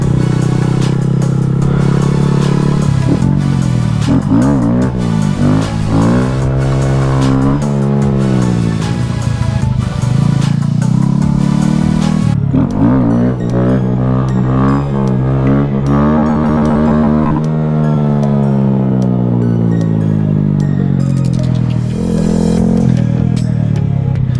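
Honda Grom motorcycle being ridden, its small engine droning and rising and falling in pitch through gear changes and throttle shifts, loud and close throughout with wind buffeting.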